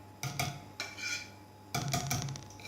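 A metal whisk clinks and scrapes against a bowl while handling yogurt cake batter, in three short bursts of close, quiet rattling taps.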